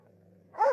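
A single dog bark, loud and close, bursts out near the end after a quiet low hum.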